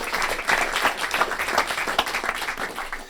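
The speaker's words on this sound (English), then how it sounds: "We have a round of applause, please" An audience breaks into lively applause after an overtone singing demonstration, with many hands clapping in a dense, even patter heard close and alone.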